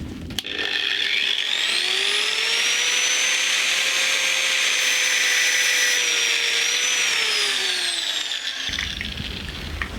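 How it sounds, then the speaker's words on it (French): An angle grinder runs up to a high, steady whine that holds for several seconds and then winds down and cuts off. It sounds loud, close and alone. "Dans le doute, meuleuse d'angle."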